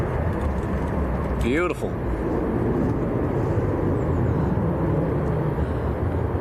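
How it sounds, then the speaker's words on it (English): A business jet heavy with fuel makes a long takeoff roll at Manchester Airport, a loud steady roar of engine noise that fills the whole clip, while a voice speaks briefly partway through. "Long roll for a bizjet."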